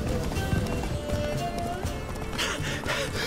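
Geralt's horse Roach gallops in The Witcher 3, with rhythmic close hoofbeats, a brief whinny and a burst of rustling movement near the end, partly under a voice.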